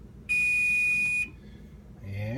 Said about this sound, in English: Our timer is about ready to be stopped.